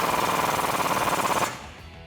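A socket wrench, probably powered, drives a 21mm socket to tighten a flag nut during a Rough Country 2.5-inch spacer lift install on a Jeep Wrangler JL. It makes a loud, rapid hammering rattle for about a second and a half, then stops abruptly.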